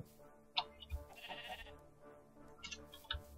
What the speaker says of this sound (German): Da ist immer noch das Schaf, das ausgebüxt ist da.